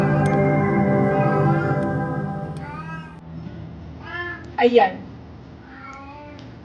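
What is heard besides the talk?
cat meowing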